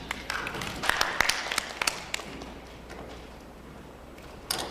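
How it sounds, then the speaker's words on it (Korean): Audience at a 2013 medical street festival lecture in Seomyeon gives a round of applause welcoming the next speaker, scattered claps rising in a few sharp bursts then thinning out, fairly faint in a reverberant hall. "큰 박수로 앞으로 모시겠습니다"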